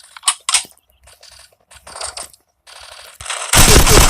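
Bursts of automatic gunfire and single shots in the mobile shooter game Forward Assault come in short, sharp clusters, ending in a loud sustained volley.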